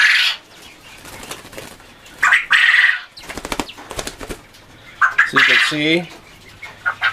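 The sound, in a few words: Coturnix quail flapping its wings in hand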